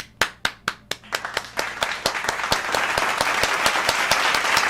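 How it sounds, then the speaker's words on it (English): Hand clapping starting as a few sharp, evenly spaced single claps close by, then quickly thickening as more hands join into a dense, loud round of applause. "Clap it up for real."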